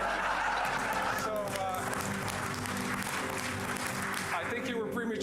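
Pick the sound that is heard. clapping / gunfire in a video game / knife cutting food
clapping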